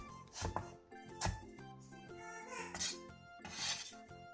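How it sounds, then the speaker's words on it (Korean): A knife chops Cheongyang chili peppers on a cutting board in quick, crisp, close-up taps, a handful of sharp strikes over a few seconds. "청양고추 2~3개를 길게 반으로 가른 뒤 쫑쫑 썰어주세요"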